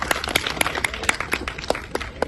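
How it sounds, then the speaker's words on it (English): Applause for a man at a bikers club's second anniversary celebration, a sparse run of about a dozen distinct, fairly loud hand claps at an uneven, brisk pace, close by. "So give a huge round of applause for this man."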